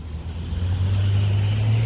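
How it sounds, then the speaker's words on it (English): A brand new Mercedes G550 drives by on a downtown Naperville street, its low, steady engine rumble swelling slightly and holding loud and close for the whole moment, with no voices. "there goes the brand new G550"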